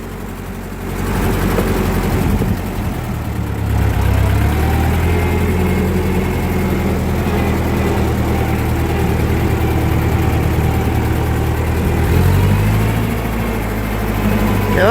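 A 1941 Ford 9N tractor engine runs steadily at idle with a low, even mechanical chug, loud and close, shifting briefly in tone partway through before settling back into its rhythm.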